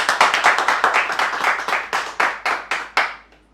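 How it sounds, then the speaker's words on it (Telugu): Audience at a political gathering clapping hands in quick rhythmic bursts, loud and close, slowing and fading out at the end. "ఓకే అయితే చప్పట్లు కొట్టి మీ అభిప్రాయం నాకు తెలియజేయండి సార్"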